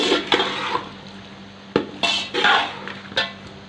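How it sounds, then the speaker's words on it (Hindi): A spoon scrapes and knocks through chicken biryani masala in a metal pot over low heat, several separate clanking strokes with short pauses, close and fairly quiet, with no talking. "अभी हम इसको हिलाएंगे और हल्की आंच पे"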